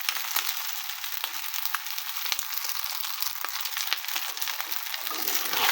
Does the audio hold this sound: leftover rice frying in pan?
yes